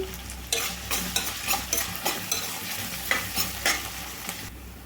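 Onion and green chillies frying in a pan while being stirred, a steady close sizzle broken by a dozen or so scraping stirs at an uneven rhythm, with no voices.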